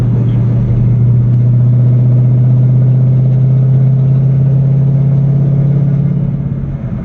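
A 2011 Ford Mustang accelerates in sixth gear, giving a loud, steady, low engine drone from inside the cabin that holds even throughout and eases off slightly at the end.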